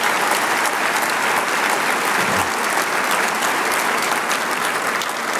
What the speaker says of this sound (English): let's give that foundation one last round of applause as well